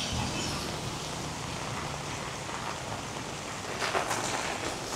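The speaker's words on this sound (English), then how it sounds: "it's amazing how much rain we're getting." Heavy wet-season rain in Da Nang pours down in a steady, dense hiss close by, swelling slightly near the end, with no voices.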